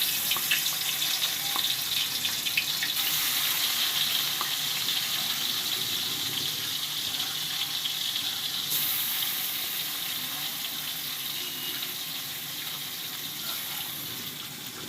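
Fish sizzles steadily in hot oil in a kadai, a loud, continuous close-up frying hiss with no break.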